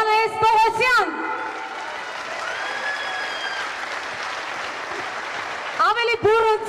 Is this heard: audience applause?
yes